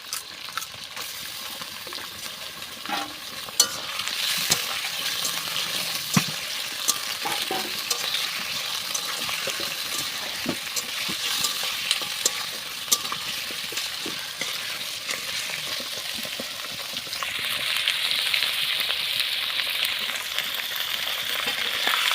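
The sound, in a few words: meat frying in a pan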